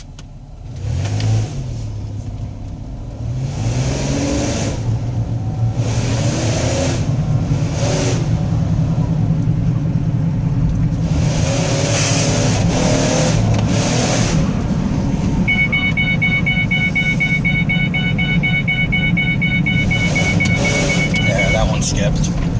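A 2005 Ford Escape engine revving hard with the pedal floored, a loud sustained drone lasting many seconds, with people talking briefly at the start.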